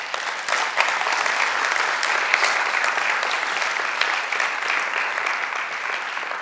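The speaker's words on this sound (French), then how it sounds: "Allez, est-ce que vous voulez bien l'applaudir?" An audience applauds steadily for a man praised for remarkable work, a dense, continuous clapping that stays loud and even throughout with no talking over it.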